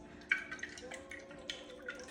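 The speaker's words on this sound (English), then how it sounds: "So we're gonna pour some olive oil over this." Olive oil poured over potatoes in a home kitchen, giving a soft liquid trickle with a few light drips and splashes, faint and steady at close range.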